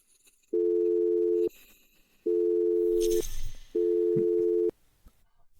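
A telephone call rings out unanswered: three long electronic ring tones, each lasting about a second, separated by quiet gaps with faint background rustling.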